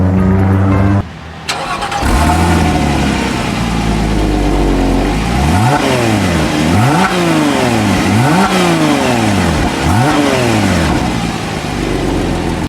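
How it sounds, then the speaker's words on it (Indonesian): A 2010 Porsche Cayman 2.9 (987) engine cranks to life with a loud roar, then revs up and down repeatedly in rising and falling sweeps, close and loud. "mau dengerin kan suara mobilnya? Saya nyalain ya."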